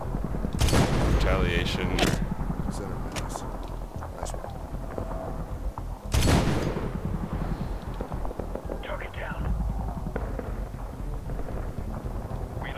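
Gunfire in the video game Medal of Honor (2010), loud broadband shots bursting near the start and again around the middle, over continuous battle noise with someone talking throughout.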